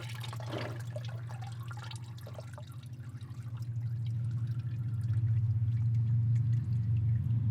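CVT transmission fluid from a Subaru TR690 pours steadily into a drain pan after the strainer drops, a continuous liquid splashing that grows louder and fuller partway through, with no talk.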